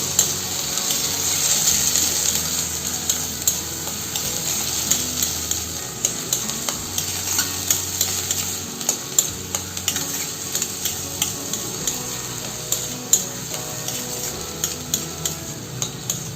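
Finely chopped onions brown in a pan for methi matar malai, a constant sizzle with frequent scraping stirs growing more regular in the second half, close up with no voices.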